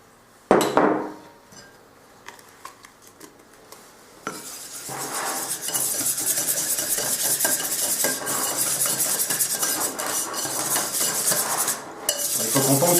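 Dark chocolate mixed with praline chocolate stirred in a bowl: a sharp clink at the start, scattered taps, then a steady busy scraping and clatter of utensil against the bowl, close and fairly loud, without speech.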